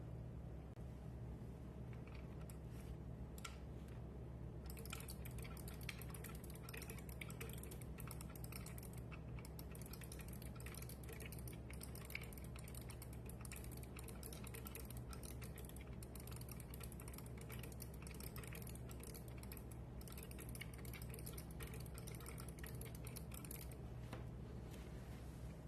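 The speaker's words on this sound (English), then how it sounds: "To close things out, we're going to do a typing test." Fast, continuous clicking of keys on a MasterForge keyboard device during a typing test, faint and mechanical with a steady hum underneath, running without pause for most of the stretch.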